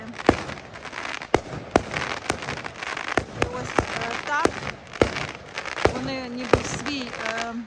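Fireworks on Remembrance Day in England crack and pop loudly in irregular bursts, with whistling rockets rising between the bangs and people's voices in the background.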